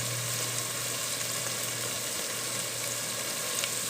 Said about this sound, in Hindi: ये हम यखनी डाल रहे हैं एक बॉल।